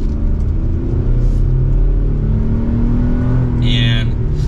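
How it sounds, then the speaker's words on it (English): Chevrolet Colorado ZR2 Bison pickup pulls away under mild acceleration, a steady low engine rumble heard from inside the cabin, gradually building in pitch with no talk over it. "Let's give it a mild acceleration here."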